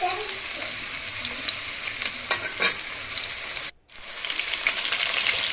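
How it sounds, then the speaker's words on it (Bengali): Potatoes sizzle in hot mustard oil in a wok for a mutton curry, a steady loud frying hiss with a couple of stirring clatters and one brief drop to near silence before the sizzle resumes. "আমি এখন মাংসের জন্য আলুগুলো ভেজে নিব।"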